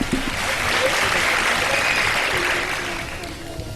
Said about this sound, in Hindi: बहुत बहुत सारी तालियां होनी चाहिए।